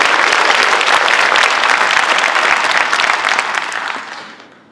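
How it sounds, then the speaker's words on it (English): An audience at a port keynote address claps loudly in sustained applause that holds steady and then tapers off over the last second. "Please give them a round of applause"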